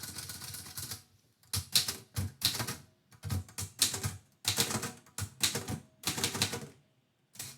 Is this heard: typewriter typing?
yes